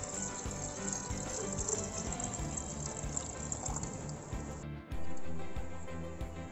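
Cold water pouring into a jug, a steady continuous splash and gurgle heard close up, with a brief pause and a change in tone near the end.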